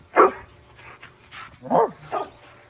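A dog gives a few sharp, close barks and yips with short gaps between them, loud against a quiet background.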